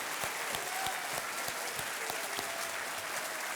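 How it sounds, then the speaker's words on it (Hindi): A studio audience on a television quiz show claps steadily, a dense even patter of many hands at moderate level with no voices over it. "तालियों के साथ एक बार फिर से इनका अभिनंदन करें।"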